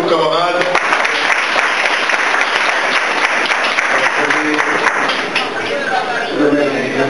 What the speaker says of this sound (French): Applaudissez vos camarades.